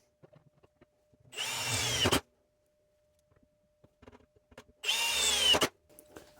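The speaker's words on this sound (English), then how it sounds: "I am going to drill some holes for these plug welds" Power drill boring holes in sheet metal for plug welds on an old-school gas tank, two separate bursts of roughly a second each, close and fairly loud, with quiet handling noises in between.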